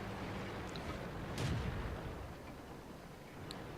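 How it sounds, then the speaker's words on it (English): In the World of Tanks video game, a single tank gun fires into an ISU-152 with one heavy boom about midway through, over a constant loud rumble of background noise. "I get a nice shot into the back of the ISU 152."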